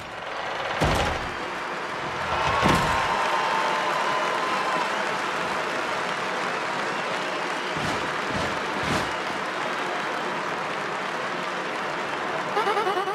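A video game arena crowd in Paper Mario: The Thousand-Year Door gives steady applause for a wrestler's return to the ring. The clapping is continuous and moderately loud, with a few thumps and a voice over it.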